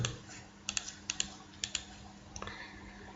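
Quiet clicks of a computer keyboard as a file name is typed, a few quick keystroke clusters spread over a few seconds with faint room hum in between.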